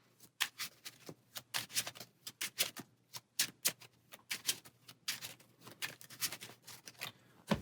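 Close, rapid card shuffling for a solo Marvel Champions card game: a steady run of crisp riffling bursts and snaps that goes on for several seconds with no voices.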